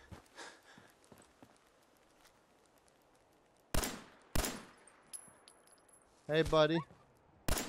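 Sparse gunshots in the video game Fallout 4, a few sharp loud cracks spaced seconds apart amid quiet ambience, with someone briefly speaking between them.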